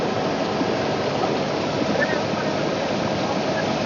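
A tractor-driven multicrop thresher cleans a coriander crop, giving a steady, dense mechanical roar that stays close and unbroken throughout.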